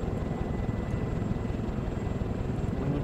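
A military helicopter's rotor gives a dense, continuous throbbing chop in ArmA 2: Operation Arrowhead. The low-heavy drone stays steady and fairly close throughout.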